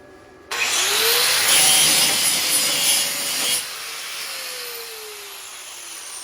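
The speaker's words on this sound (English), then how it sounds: "I'm gonna grind a spot here for the ground." An angle grinder grinds a bare spot on a metal work table to clamp a MIG welder's ground, a loud continuous abrasive whine for about three seconds that then drops to a quieter spin-down.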